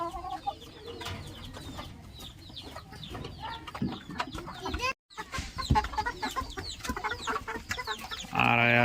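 Hens and a rooster on a Bangladeshi poultry farm, with steady layered clucking throughout at close to moderate range and a brief break near the middle. No one speaks.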